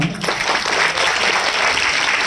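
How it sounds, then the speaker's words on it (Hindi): Loud, dense applause from a crowd, given for a team at a speech event, fills the moment as a steady roar of clapping with no talk. "इसलिए इनके लिए आप जोरदार तालियां।"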